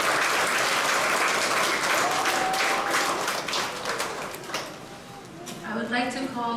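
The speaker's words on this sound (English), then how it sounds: "Can I ask that we all give her another big round of applause?" Audience applause fills a commencement ceremony hall, loud sustained clapping from a large crowd that tapers off over several seconds as a voice begins speaking.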